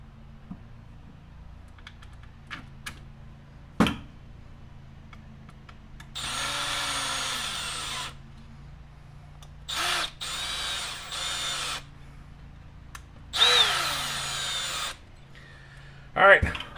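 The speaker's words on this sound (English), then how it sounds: "But get your first 3 screws again in the bottom put in." A power drill whirs in three separate bursts, close up, driving screws into the bulkhead of an Arrma Kraton 4S RC car, with small clicks and handling noises between runs.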